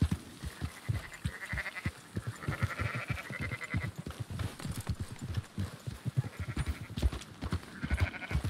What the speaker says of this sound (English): Marston, why don't you leave the sheep to me?